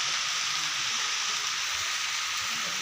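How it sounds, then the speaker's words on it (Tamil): Heavy rain pours down in a steady, dense hiss that stays loud and unbroken throughout, with no voices. "மழை நல்ல மழைங்க"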